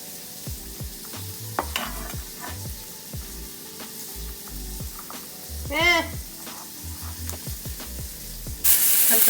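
Onion and cilantro fry in a pan with a steady sizzle, punctuated by stirring clatter and scrapes, plus a brief squeaky burst midway and a louder hiss rising at the end.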